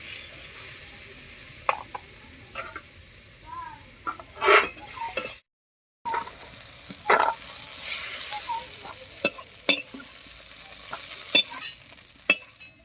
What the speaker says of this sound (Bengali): বেগুনটাও বেশ লাল লাল করে ভেজে নিয়েছি এবার নামিয়ে নিচ্ছি